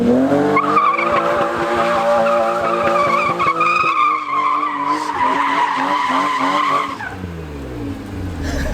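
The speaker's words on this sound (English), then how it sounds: "You can do a donut." A BMW E36 M3's tires squeal continuously while the engine revs and drops, a long skidding screech as the car does tight donuts nearby.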